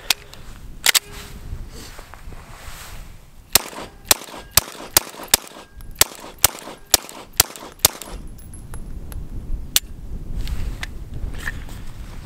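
Nine suppressed 9mm pistol shots from a Q Erector modular silencer fitted with just three baffles ring out in a steady, evenly spaced string of sharp, loud cracks, with a couple of earlier isolated shots and faint background rustle.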